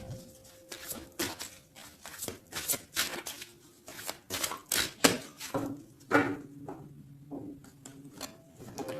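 A deck of tarot cards being shuffled and cut by hand, with close, rapid riffling bursts and soft slaps repeating in an uneven rhythm.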